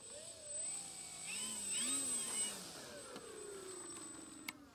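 An 1100 mm RC P-40 Warhawk model plane flies overhead with a thin, whining electric motor that rises and falls in pitch as it passes, moderately distant and fairly quiet, with no talking.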